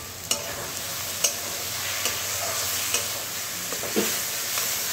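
Whole cumin, Kashmiri chili powder and sugar sizzle steadily as they are sautéed in a pan, with a few sharp scraping knocks of a spoon stirring at irregular intervals, close and without talk.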